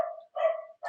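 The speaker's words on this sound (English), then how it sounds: "sorry about the dog here." A dog barks indoors behind a tutorial recording, three quick close barks in under a second, sharp and fairly loud with clean gaps between them.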